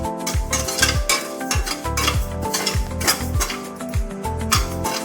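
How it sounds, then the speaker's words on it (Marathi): Red rice dry-roasting in a pan for kheer, stirred with a spatula that scrapes the metal in a steady, repeated rhythm, close and fairly loud, with no voices. "आता आपण हे लाल चांगले लालसर तांदूळ भाजून घेऊ"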